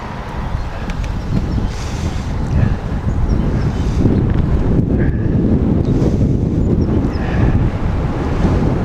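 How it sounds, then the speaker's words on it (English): Strong wind buffets the microphone in a continuous low roar, with gusts rising and falling and no voices. "I do feel the wind blowing in my face"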